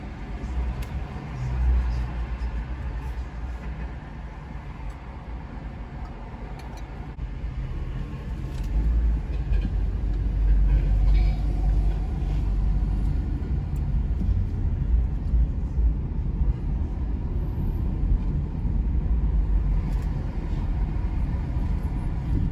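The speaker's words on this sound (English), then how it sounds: "all the shaking of the car, the bus, the buses, the cars, the car horns, everything" Steady rumble of city traffic in Kingston, cars and buses passing close by, growing louder toward the middle, with faint voices now and then.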